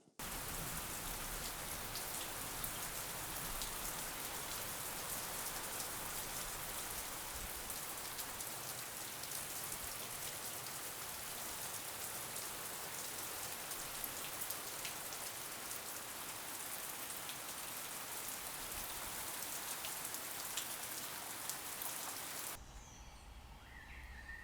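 Steady summer rain pattering on surfaces, a dense continuous hiss throughout that drops away slightly near the end, with no voices.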